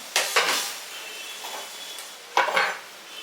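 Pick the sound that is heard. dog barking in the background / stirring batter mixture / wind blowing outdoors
stirring batter mixture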